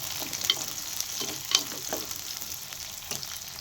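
Green chillies stir-fry in a pan for a cabbage poriyal, giving a crackling fry with repeated spatula scrapes and taps over a steady sizzle. The sound is close and moderately loud, with no speech.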